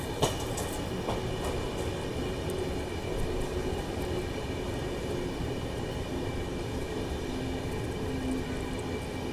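AP Express passenger train from Nagpur to Delhi rolling slowly near Kohli station, a steady rumble of wheels on track heard from inside the coach, with faint clicks and a thin squeal.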